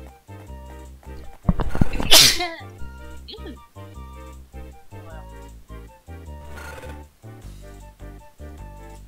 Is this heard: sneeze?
yes